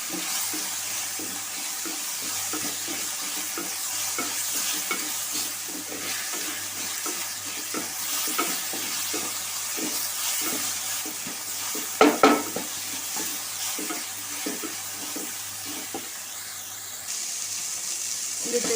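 Food fries and is stirred in a pan, giving a continuous soft sizzle broken by scraping stir strokes and a couple of sharper clinks near the middle, close and moderately quiet.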